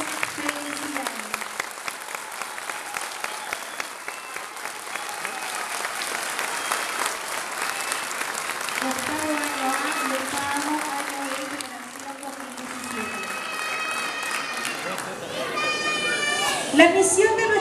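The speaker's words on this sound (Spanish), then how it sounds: "Les pido que les brindemos a todos ellos un gran aplauso y muchas felicidades." An audience applauds graduating eighth-grade students at a 2017 school graduation ceremony. Steady clapping runs throughout, with children's voices and crowd chatter mixed in and rising near the end.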